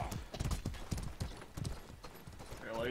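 Galloping horse hooves in the medieval combat game Mordhau, a rapid irregular clip-clop of hoofbeats passing close by, with a faint voice heard briefly.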